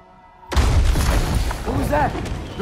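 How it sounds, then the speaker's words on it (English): In God of War Ragnarok a bomb goes off with a sudden heavy boom after a quiet start, followed by rumbling debris and a voice calling out beneath the roar. "The bomb."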